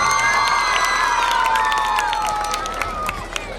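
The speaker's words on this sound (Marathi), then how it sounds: "अजून जोरदार टाळ्या झाल्या पाहिजेत." A school audience at an annual function cheers and claps, a dense, loud, continuous crowd roar with shrill children's whoops and whistles layered on top throughout.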